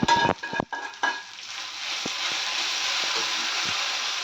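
Hot tempering poured over curd rice sizzles loudly at first with sharp bursts, then settles into a steady, close hiss of frying oil that carries on alone.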